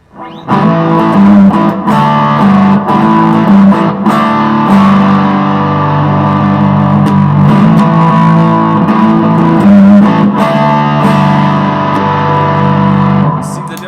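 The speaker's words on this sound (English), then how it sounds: "this is my Cat, Crazy Cat distortion, which I use basically the whole time." Loud, sustained distorted electric guitar chords through a Crazy Cat distortion pedal, ringing out with a thick, fuzzy tone, playing continuously throughout.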